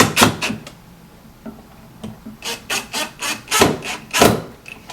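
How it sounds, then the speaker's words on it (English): Screws driven into a cabinet drawer box during base cabinet assembly, heard as a close, rhythmic series of grinding, rasping bursts from the screwdriver, each followed by a short pause. "I'm just going to screw them right in place."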